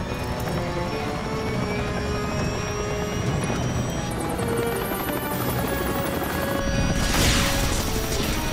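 Helicopter in a wildfire movie scene with a failing rotor and overloaded electronics, a steady loud rotor and engine drone with harmonic whine, crashing mechanical bursts and a rising roar near the end.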